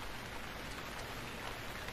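Rain falling in the survival game Stranded Deep, a dense steady hiss of drops on surfaces, continuous and even throughout with no voices.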